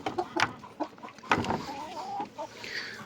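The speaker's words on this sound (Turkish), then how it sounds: "Feriklerimiz, tavuklarımız." Chickens cluck in short, scattered bursts at close range, with soft rustling and a faint higher call near the end.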